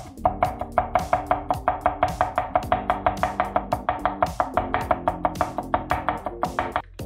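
Rapid, steady knife chops through carrot on a cutting board, cutting ovals then sticks, dozens of crisp close taps in quick rhythm, with no voices.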